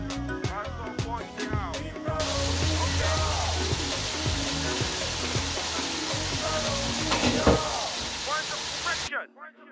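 Tomatoes cooking in a pot for Khati Khati with njamanjama, a continuous bubbling sizzle and hiss filling the clip under a busy background, ending abruptly near the close.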